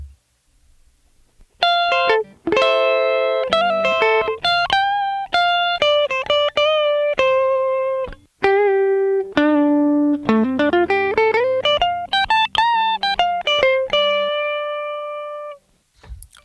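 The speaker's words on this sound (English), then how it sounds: "So that is a Fender Stratocaster from, I believe, 1974 going into a direct box." A 1974 Fender Stratocaster electric guitar played dry through a direct box, picking a clean melodic line of bright plucked notes, slides and bends, loud and close with short gaps, no speech.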